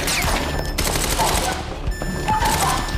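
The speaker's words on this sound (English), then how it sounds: "now she's hearing gunfire." Sustained automatic gunfire in the video game Quantum Break, a dense continuous fusillade of overlapping shots that fills the whole stretch at high level with little letup.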